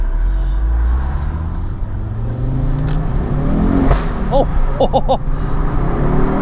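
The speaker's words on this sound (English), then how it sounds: "I want to see if the car's boosting normally." A Ford Focus RS accelerates hard under turbo boost, its engine note climbing steadily in pitch from inside the cabin, with a brief exclamation from someone aboard partway through.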